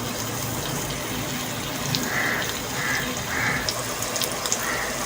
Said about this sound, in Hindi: अब मैं इसमें पानी डाल रही हूँ 1 गिलास।